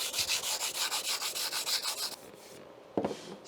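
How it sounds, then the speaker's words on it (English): Pre-painted wood is sanded by hand in a quick run of about a dozen rhythmic rasping strokes, close and fairly loud. A brief pause follows, then a single knock and scrape. "because the wood is pre-painted, just in case for the glue to stick better, I will sand a little bit off"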